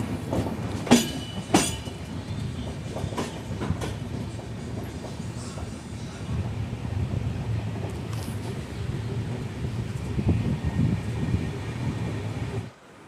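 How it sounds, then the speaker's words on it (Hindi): Kochuveli Express passenger train running past Lalgarh bypass cabin, heard from on board as a steady low rumble of wheels and carriages with a few sharp clacks and squeals early on, loud and continuous until it cuts off. "दोस्तों इस वक्त हमारी ट्रेन गुजर रही है लालगढ़ बाईपास कैबिन से"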